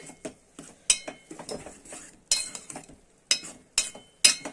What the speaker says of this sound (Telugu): అల్లవెల్లుల్లి పేస్ట్ వేసుకున్నానండి కలుపుకుంటా